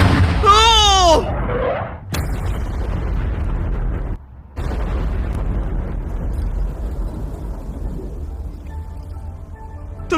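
A pyrotechnic bomb explodes into fire, making a loud, sustained roaring rumble that lasts for several seconds and dips briefly midway. A voice shouts over it at the start.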